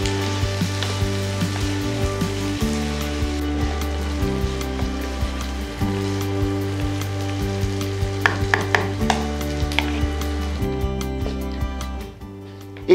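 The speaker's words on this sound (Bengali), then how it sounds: "এবার রান্নাটি কষান পরবর্তী 25 মিনিট থেকে আধ ঘন্টা।" Mutton curry sizzling and being stirred in a pan, with a continuous close sizzle, occasional scraping clicks of a utensil, and a steady tonal hum underneath, fading at the end.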